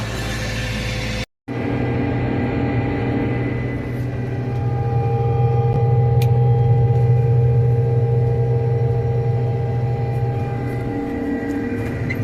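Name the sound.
combine harvester threshing beans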